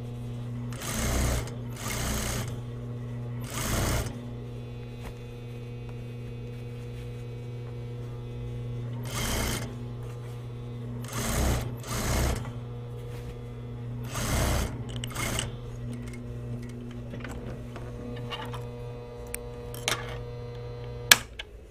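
A sewing machine stitches a jacket lining in short repeated bursts of fast mechanical whirring, separated by pauses under a steady electrical hum, close and clear with no talk.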